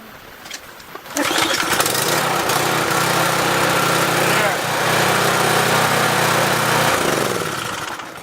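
A Briggs & Stratton engine on a Troy Bilt pressure washer, running on a newly replaced carburetor, catches after a brief pull and roars into a loud, steady run close by, winding down slightly at the end.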